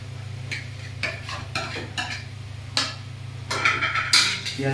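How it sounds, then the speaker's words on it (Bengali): Onions are stirred in a pan for mutton kacchi biryani, a spatula scraping in a series of separate strokes over a steady low hum, with no talking. "এর জন্য পেঁয়াজ দিচ্ছি। পেঁয়াজটা কষাই দিই"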